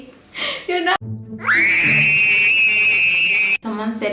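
A voice imitates a long, shrill Peppa Pig style scream, a sustained high-pitched cry lasting about two seconds between bursts of nearby speech.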